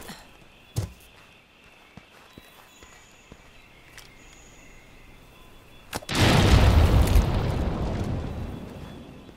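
A Monster Hunter bomb blows up on a training dummy post, a loud, deep roaring explosion that swells and slowly fades after a few quiet taps and small pops.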